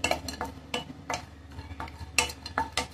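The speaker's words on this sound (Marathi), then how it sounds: "थोडंसं सुकं खोबरं सुद्धा भाजून घेते." Dry coconut roasts in a pan while being stirred, making quiet, rhythmic scraping strokes, about ten in three seconds, over a soft background sizzle.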